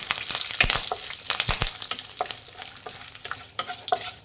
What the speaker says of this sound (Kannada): ಕಡಲೆಬೇಳೆ ಉದ್ದಿನಬೇಳೆ ಚೆನ್ನಾಗಿ ಫ್ರೈ ಆಗಿದೆ